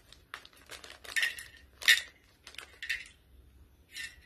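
Small gems poured into a bowl, a run of bright clinking and rattling bursts, close and fairly quiet, with short pauses between pours.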